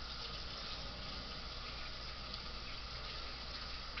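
Tap water runs steadily to rinse sticky honey off a spoon or measuring utensil, a constant even gush at moderate level, close and uninterrupted, with no talking.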